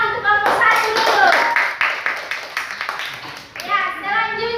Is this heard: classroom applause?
yes